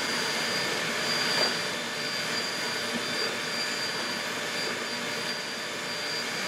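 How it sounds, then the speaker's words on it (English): A steady, whirring electric mixer whips milk for homemade butter, a constant even motor drone with a slight rise near the start and no talking. "we're using the mixer to force air"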